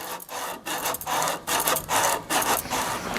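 Coarse sandpaper rubbed by hand along the curve of a wooden steering wheel rim for a 1939 Hudson, a close, dry rasping in quick back-and-forth strokes with short gaps between them.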